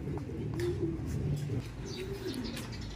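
A pigeon, likely a racing pigeon, gives soft, low cooing calls at a loft, faint and close under quiet background noise.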